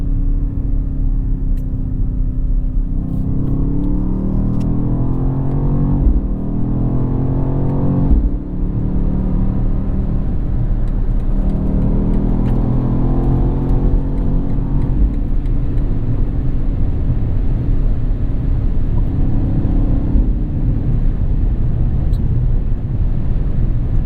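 A 2023 BMW XM accelerating, its engine rumbling loudly and steadily with rising and falling sweeps of revs over about twenty seconds, with no talk.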